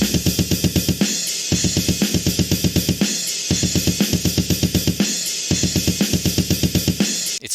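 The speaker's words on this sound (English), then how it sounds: "It's more of a metal style drums because that's my taste." A metal-style drum beat pounds in a fast, driving pattern of dense, heavy hits with regular short breaks between phrases, loud and continuous with no voices.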